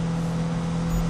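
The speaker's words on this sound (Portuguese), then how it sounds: "O jogo já tá cortando o giro já, ó." A racing video game car, apparently a Civic, holds its engine against the rev limiter, producing a steady, loud droning buzz with a fixed pitch that barely changes throughout the short moment.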